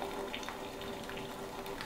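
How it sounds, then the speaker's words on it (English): Water from cooked spaghetti pours out through a pan with a built-in colander, a faint, steady trickling and splashing for a couple of seconds. "the colander inside of it, so I can actually drain it right here."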